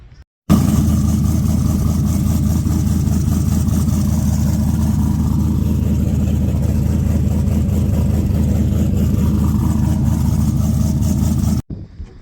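A shop car's engine turns over and settles into a steady, loud idle that drones on without a break for about eleven seconds before cutting off.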